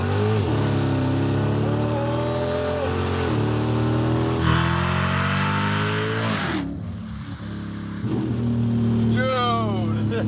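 A Dodge Hellcat engine revs hard while accelerating in second gear, rising in pitch in long loud pulls with a brief lift and drop around a gear change, as people talk over it.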